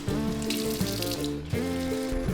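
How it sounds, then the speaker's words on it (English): Warm water runs from a sink tap in the toilet of a Japanese roadside station, a steady close splashing flow with faint tonal plumbing hum and no talking. "it's one of the rare Michi-no-Ekis that had warm running water from the taps"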